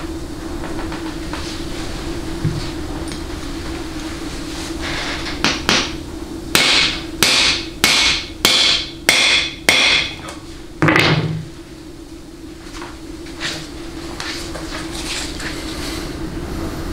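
A hammer drives a large bushing driver into a 4L80E transmission pump body resting on a towel, about eight sharp metallic strikes in a quick sequence, close and loud, followed by quieter handling noises.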